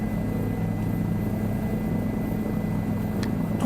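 Helicopter rotor and engine in Microsoft Flight Simulator 2020, a steady, even droning hum with a low throb that holds throughout at moderate loudness.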